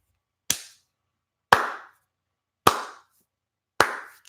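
Four slow, isolated hand claps, crisp and sharp with a short decay, spaced about a second apart in otherwise silent surroundings.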